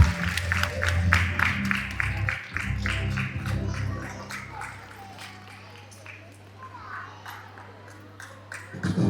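An audience claps at a school graduation ceremony at Little Rose Nature School, a quick rhythmic burst of many hands that thins out over a few seconds above a steady low hum, with voices in the background.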